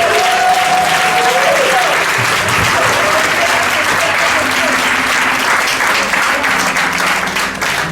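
A church congregation gives loud, sustained applause as an offering of acclaim, the clapping steady throughout while voices cry out over it.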